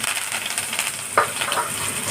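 Steady crackling sizzle of mustard seeds popping in hot oil, with one sharper pop partway through, close and fairly loud throughout.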